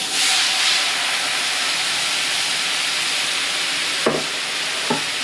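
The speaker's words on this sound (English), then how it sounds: "Deglaze the pan." Sauce hits a hot pan used for searing scallops and bursts into a loud, steady steamy hiss and sizzle, easing slightly over several seconds, with a couple of short knocks near the end.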